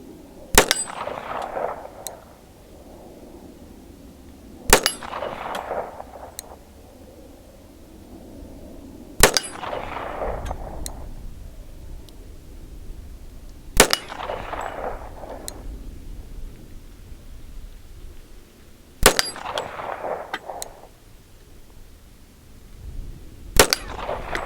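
Six sharp pistol shots from a Springfield Armory 1911 TRP firing 230gr and 185gr Berry's plated bullets, evenly spaced about four to five seconds apart, each with a ringing metallic clang and a short decaying echo.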